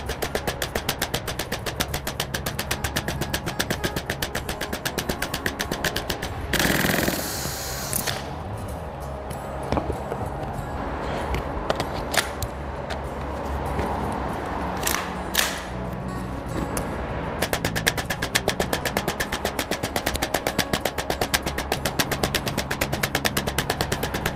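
Tokyo Marui MWS-system gas blowback airsoft rifle in an MCX Spear LT body, run on black gas near -1 °C, firing BBs in long rapid full-auto strings of sharp clacks, with a brief pause midway before firing resumes.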